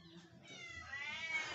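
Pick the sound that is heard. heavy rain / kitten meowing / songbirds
kitten meowing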